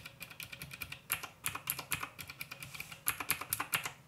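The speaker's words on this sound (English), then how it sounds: "when you press without the keycap, you don't hear that noise so much, but with the keycap it's just so huge difference" Rapid clicky keystrokes from a Royal Kludge RK61 Bluetooth/wired keyboard with blue switches and keycaps fitted, typed in uneven bursts at close range, each press giving a sharp bright click.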